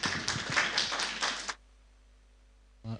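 Church congregation at a prayer service applauding their pastor, a dense patter of clapping hands for about a second and a half that stops abruptly, followed by quiet and a brief noise at the end.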